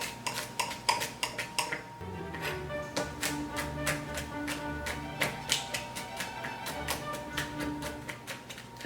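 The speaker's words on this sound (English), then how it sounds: "so I have minced up my garlic." Garlic being minced with a knife on a cutting board for an Italian antipasto salad dressing, a quick steady run of close, sharp chopping taps with no talking.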